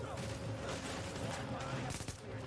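Rapid gunfire from Tom Clancy's The Division co-op play crackles as fairly quiet, repeated bursts under a steady game background, with a voice talking during the shots.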